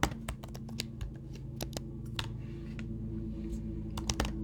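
Irregular clicks of a computer keyboard as commands are typed into a terminal, close and fairly quiet, with short bursts and pauses between keystrokes.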